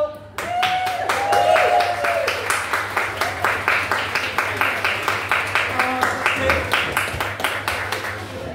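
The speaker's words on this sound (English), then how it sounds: "You could keep applauding until I actually get to the microphone." Audience at a comedy club show applauding the host, with steady rhythmic clapping and some cheering throughout, loud and close, while voices speak over it.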